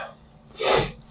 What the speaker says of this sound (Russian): захотелось мне чихнуть